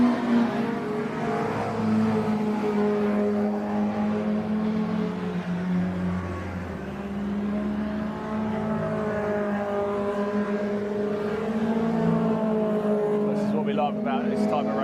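MG race cars roar continuously past at Donington Park, a steady engine drone with shifting pitch throughout, overlaid by a commentator talking live.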